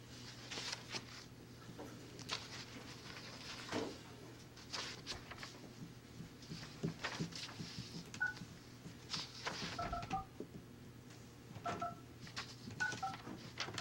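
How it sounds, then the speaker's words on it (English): Telephone keypad tones beep in short spaced bursts while a phone call is connected during a county election review committee meeting, faint under room noise and rustling. "try one more time at this point to connect Kia Warren"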